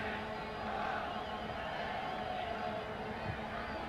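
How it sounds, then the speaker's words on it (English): Stadium crowd at a soccer match, Canada versus South Korea in the 2000 Gold Cup, a steady broad roar of many voices swelling slightly, continuous and fairly distant under the broadcast. "you can sort of hear the crowd noise beginning to mount a little bit here as well"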